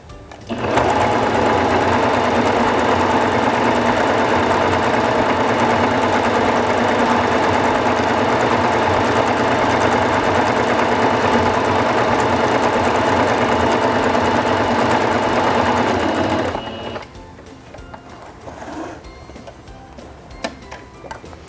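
A Singer Fashion Mate 5560 sewing machine runs steadily for about sixteen seconds stitching a decorative vine pattern at a longer stitch length, its close, loud mechanical whir and rapid needle ticking stopping abruptly, followed by quiet handling noises.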